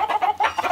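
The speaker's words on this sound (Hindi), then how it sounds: "ये जो फीमेल है मुर्गी" A hen clucks on an animal rescue farm in India, a short, close burst of rapid, rhythmic clucks with no talking.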